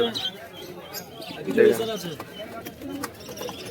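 Pigeons coo softly at a crowded bird market, their low warbling calls mixing with chirps and a person talking nearby.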